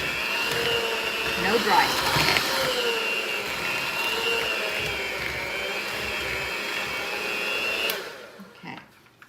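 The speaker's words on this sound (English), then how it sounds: "Now I'm done with my mixer" An electric mixer beats peanut butter cookie dough in a bowl, a loud steady whirring drone with a faint voice briefly over it, then cutting off near the end.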